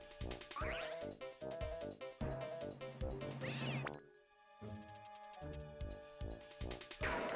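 Cartoon cat meows in the rhythm game Rhythm Tengoku ring out over a bouncy music track with percussive hits. Several meows fall in time with the beat.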